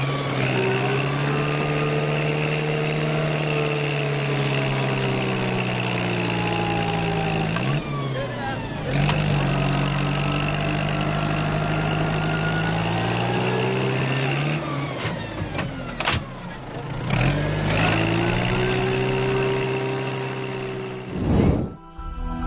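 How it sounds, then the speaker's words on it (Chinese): A tractor engine labouring over desert sand dunes, a steady droning hum that rises and falls in pitch as it strains and revs, loud and close, with brief clunks and a sharp change near the end. "在翻越这些沙山的时候，拖拉机几乎陷入其中。"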